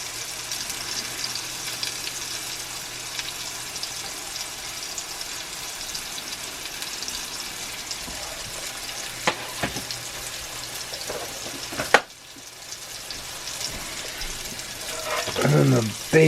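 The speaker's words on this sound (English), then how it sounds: "Butter's in there. I'm gonna drop in my sourdough bread" Sourdough bread sizzles in melted butter in a cast iron pan, a steady close hiss of frying that runs throughout with a few clinks and a brief louder clatter near the end.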